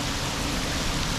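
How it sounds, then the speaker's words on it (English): Heavy rain pours down beside a river while wading for smallmouth bass, a dense, constant hiss of falling water that is loud and unbroken for the whole moment. "Way too much rain."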